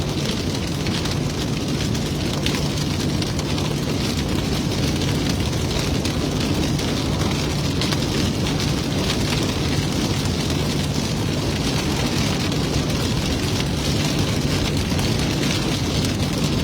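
Heavy rain pours during a severe-warned storm southeast of Ralls, Texas, a loud, dense, unbroken roar of drops on surfaces that persists without pause, with a low steady hum beneath.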